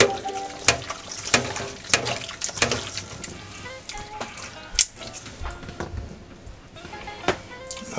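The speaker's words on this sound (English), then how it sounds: "for me to get a good mix, I just like to use my hand and just get everything going" Hands mixing cassareep chicken stew ingredients in a bowl, wet squelching and slapping sounds in an irregular rhythm, close up, with no talking.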